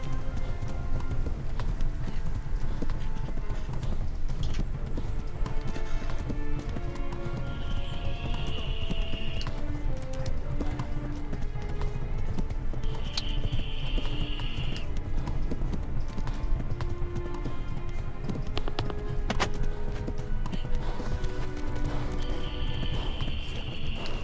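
Continuous rhythmic hoofbeats of a galloping horse in the video game Kingdom Come: Deliverance, over a steady rumble, with a few brief high tones recurring; no voices heard.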